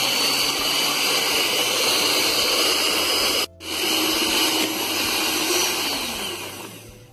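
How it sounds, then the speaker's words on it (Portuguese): An ordinary electric hand mixer on its lowest speed beats egg whites for a cornmeal cake, giving a loud, steady whir close by that cuts out for a moment midway and then resumes, with no talking. "Nós vamos começar batendo por 3 minutos na velocidade 1 desta batedeira comum mesmo."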